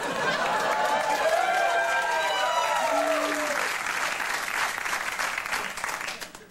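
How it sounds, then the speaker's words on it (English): Studio audience applause at a late-night comedy show fills the space, a dense steady roar of clapping with a few scattered cheers that tapers off near the end, while a voice talks over it. "Thanks for applauding an obviously retouched photo."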